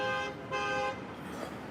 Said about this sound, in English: he's just honking his horn